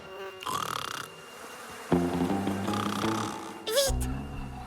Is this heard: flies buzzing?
yes